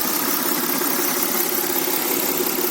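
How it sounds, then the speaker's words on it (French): Audi A6 C5 Avant 3.0 engine from 2003 idling steadily up close, a constant hum with a fine, light ticking running through it, no voices. "Petit cliquetis absolument normal sur ce moteur."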